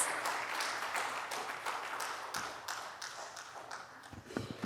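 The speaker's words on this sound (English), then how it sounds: "Ladies and gentlemen, with a nice big round of applause." Audience in a conference hall giving a round of applause, a faint, distant patter of clapping that thins toward the end, with a few louder knocks close by.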